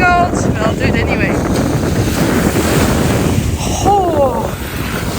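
Surf washing onto a beach on the Ningaloo Coast near Exmouth, a steady broad roar with wind buffeting the microphone throughout, and voices briefly calling out over it.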